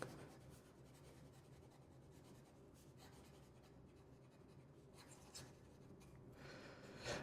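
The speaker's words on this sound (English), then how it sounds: "And this is Ferris Wheel Press Heroic Blue Shimmer Ink. Fast writing." Fountain pen filled with Ferris Wheel Press Heroic Blue Shimmer ink scratching quickly across paper, a steady close dry scribble of fast writing with small bursts of stroke noise, no voices.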